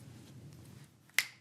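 A single crisp finger snap lands near the end after a brief low murmur, close and sharp but fairly quiet overall.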